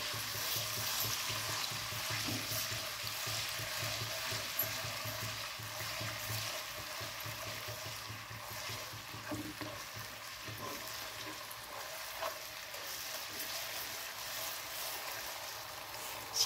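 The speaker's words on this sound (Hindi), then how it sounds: "इसमें हम अदरक लहसुन भून लेंगे।" Ginger and garlic frying in a pan for a handi seekh kabab dish, a steady, continuous sizzle and hiss at moderate volume with occasional stirring scrapes, no voices.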